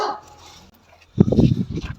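An eight-month-old Punjabi female dog barks and growls in a short, loud burst after a quiet moment, close by.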